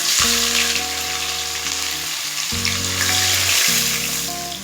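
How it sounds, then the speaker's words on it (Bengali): Whole spices fry in hot oil in a pan for chicken pilaf, producing a loud, continuous sizzle that runs under prominent background music. "এবার সব মশলা 30 সেকেন্ড ভেজে নেব।"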